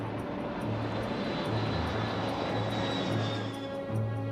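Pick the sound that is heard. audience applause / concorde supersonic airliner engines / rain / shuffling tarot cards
concorde supersonic airliner engines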